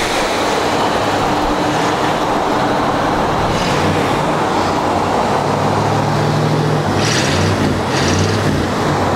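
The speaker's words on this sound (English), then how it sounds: "Exhaust sounds really good." Steady low rumble of an idling 1959 Cadillac Series 62 Convertible exhaust, continuous and fairly loud, with a deep burbling drone throughout and no talking.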